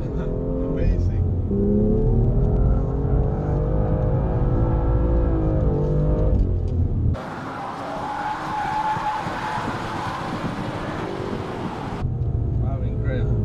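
A 2016 BMW M2 with 370 horsepower drifting through a corner on a hot lap at Laguna Seca. Engine drone runs under close talk, then a loud, broad tire-and-wind roar lasts about five seconds before the talking resumes.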